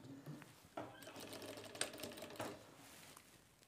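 A sewing machine stitches a folded shirt strip into a designer pen pocket, running as a steady close mechanical whir with rapid needle clatter and a few sharper knocks, with no voices.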